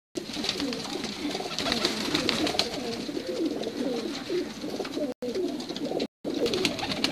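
Pigeons cooing on a rooftop loft, soft low throaty coos overlapping continuously alongside other bird calls, moderately close with a faint background hum.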